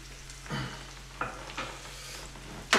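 Bacon sizzles quietly in a pan, a soft low crackle broken by a few brief stirring or scraping knocks and a sharper clatter at the end, with no talking.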